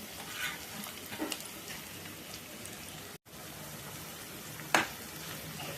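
Quiet, steady sizzling of chopped tomatoes and onions sautéing in a pan, with a few faint clatters and a sharp click near the end.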